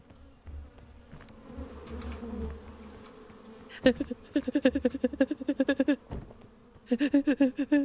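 Bees buzzing in the video game PEAK, a low hum first, then loud pulsing buzz bursts repeating rapidly near the listener, pausing briefly and resuming.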